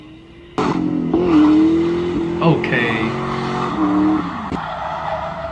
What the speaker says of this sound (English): Got you a nice little burnout video right here.